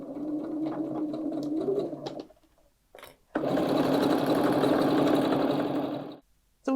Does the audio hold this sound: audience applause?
no